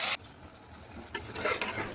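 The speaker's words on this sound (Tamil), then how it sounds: "நல்லா கொதிக்குது" A goat blood and lung gravy bubbles and simmers in a cooking pot, a soft, uneven hiss with a brief clatter at the start.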